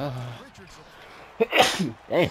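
A person sneezes once, sharp and close, after a short spoken word, with a second voice following right after.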